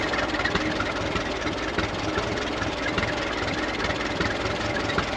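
Small 28 horsepower farm engine running on an Australian farm, a steady low mechanical chugging idle with a slight knocking pulse, close and unbroken.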